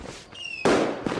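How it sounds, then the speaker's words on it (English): Video game fireworks burst loud and close, with a short whistling rise and then a big crackling blast that rolls into a second pop, with no talk. "Fireworks"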